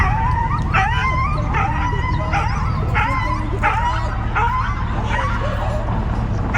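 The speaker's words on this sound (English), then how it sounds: "a dog approaches several officers barking" A dog barks repeatedly and yelps at several police officers during a confrontation, loud and close, with steady sharp barks and whimpering cries over constant low background rumble.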